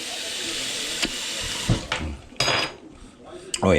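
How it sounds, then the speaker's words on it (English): Water runs from a tap and splashes into a pan, with a few clinks of cookware and short sharp knocks in between. "Put some water in there."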